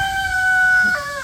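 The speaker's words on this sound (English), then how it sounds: "roosters." A single rooster crow rings out, a drawn-out tonal call heard at moderate distance over quiet background.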